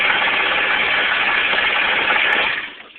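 A small boat's engine, key-started like a car, runs at a steady idle with a close, even drone that drops off sharply near the end.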